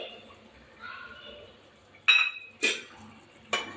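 Green peas, potatoes and paneer dropped into a boiling pot of paneer aloo butter masala, giving a few close, sharp clinks and splashes spaced about a second apart, with a faint metallic ring under the first.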